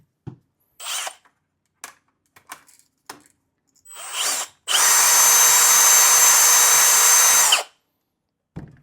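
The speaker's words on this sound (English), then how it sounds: "take our drill." A power drill drives pins on a Traxxas X-Maxx RC truck, with scattered clicks and short handling noises leading into one loud, sustained whir of roughly three seconds that then stops abruptly.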